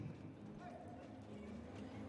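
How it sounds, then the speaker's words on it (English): Horses trotting in an FEI Driving World Cup driving competition at Leipzig, with a steady hoof clip-clop running under continuous commentator talk throughout. "Popping back into a trot."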